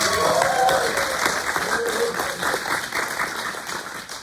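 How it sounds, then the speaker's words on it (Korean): A crowd at a Mongolian folk performance claps at a tourist camp, a steady dense wash of applause that gradually tapers off, with a voice speaking over it near the start. "박수 한번 부탁드리겠습니다"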